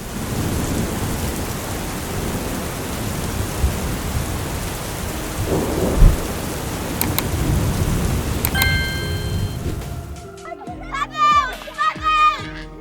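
Steady rain falls through a thunderstorm, with dull rolling thunder and a sharp crack partway through; voices and music-like tones take over near the end as the rain fades.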